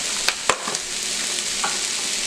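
Callaloo (Jamaican spinach) sautés in a pan, giving a steady, fairly loud sizzle broken by a few sharp clicks and scrapes as it is stirred.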